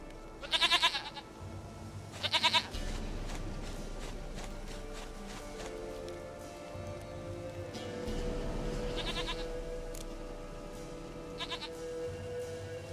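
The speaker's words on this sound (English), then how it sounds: "Goat of mine, dearest," Goat bleats from The Witcher 3 video game, four short wavering calls spaced apart over a bed of quiet outdoor ambience and soft movement.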